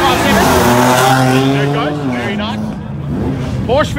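A Formula 3 race car climbs past at a hillclimb in Knysna, its loud engine note sweeping through gear changes and fading as it moves away, with a commentator talking over it throughout.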